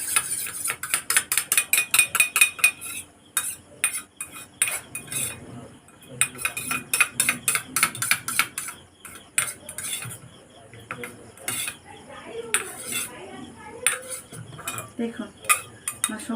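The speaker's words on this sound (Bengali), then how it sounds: "এবার আমি একটা চামচ দিয়ে মিক্সড করে নেবো" Spoon scraping and clinking against a bowl while sauces are mixed for dry chilli chicken, a close rhythmic run of metallic taps and stirs with short pauses between bursts, no talking.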